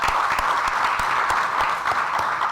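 Audience applause at the opening session of a regional learning event, a steady wash of many hands clapping throughout, moderately loud and continuous with no talk over it.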